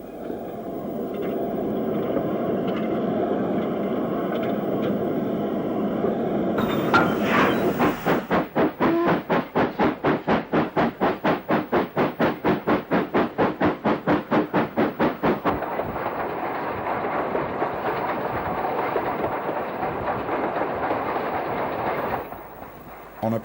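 A train runs on the line to Leekbrook: a low steady engine rumble, then a long stretch of fast, evenly spaced rhythmic beats from the running locomotive, settling back into a continuous drone.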